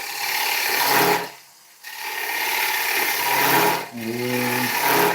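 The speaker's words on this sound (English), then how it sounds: "I'm actually coming in with a push cut with the flute away from me, and I'm trying to create a tenon" Gouge making a push cut into a dieback ash blank on a wood lathe to form a tenon, a steady rough scraping and rasping under the hum of the spinning work, broken by a short pause where the tool comes off.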